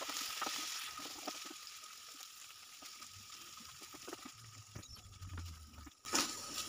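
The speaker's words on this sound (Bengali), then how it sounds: "পনিরগুলো প্রথমে একটু হালকা করে ভেজে নিচ্ছি।" Paneer pieces lightly frying in white cooking oil make a faint, continuous crackling sizzle with scattered small pops, with a louder clatter near the end.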